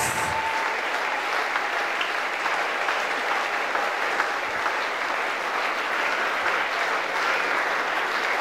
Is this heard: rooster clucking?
no